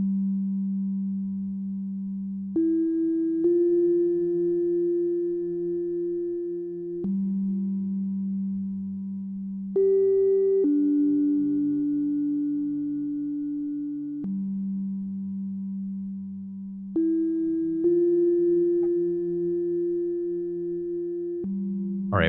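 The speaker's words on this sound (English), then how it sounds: "I can feed this signal over to that pedal to introduce a little bit of reverb" A modular synthesizer plays sustained pure tones through a Specular Tempus reverb pedal, stepping between held pitches every few seconds in a slow, calm sequence with a soft reverb tail and no voices.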